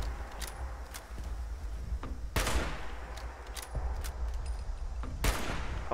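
Scattered gunshots in Fallout 76, a few sharp cracks spread unevenly over several seconds, including one louder blast, moderately close over steady background noise.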